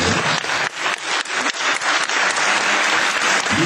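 An audience at a young pianists' concert in the Atrium, Martinique, greets pianist Lucas Taieb with loud, close, continuous clapping that keeps up without a break.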